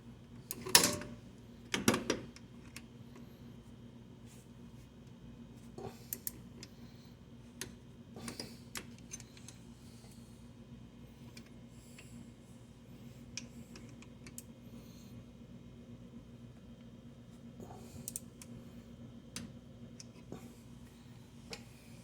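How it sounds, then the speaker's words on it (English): A torque wrench tightens the rear brake caliper guide pin bolts to 23 foot-pounds on a 1999 Oldsmobile Bravada, giving a couple of sharp close clicks early on, then scattered faint ticks and light clatter in a quiet workshop. "let's torque those guide pin bolts, 23 foot-pounds"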